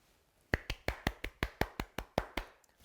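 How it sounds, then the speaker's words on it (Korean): Crisp hand claps ring out in a quick, even series of about a dozen, close and fairly loud, at an online student evangelism gathering, then stop abruptly. "박수 소리가 여기까지 들리네요"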